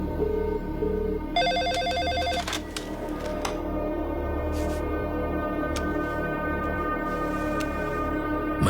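A telephone rings with a short burst of electronic trilling tones, then stops, leaving a busy background hum with occasional clicks.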